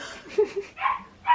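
A puppy gives a few quick, close yips and barks, short and high, in a burst lasting about a second.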